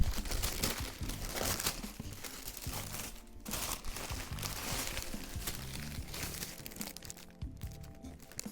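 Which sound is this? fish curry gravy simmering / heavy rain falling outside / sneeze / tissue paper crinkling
tissue paper crinkling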